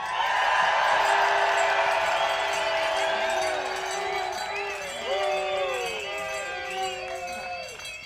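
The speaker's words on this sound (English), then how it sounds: "So I want to give them a nice, warm, giant Stanley Cup cheer." A large crowd at an outdoor pro-democracy rally cheers warmly for protesters, a loud, sustained roar of voices with whoops that rises early, then slowly tapers while voices keep calling out.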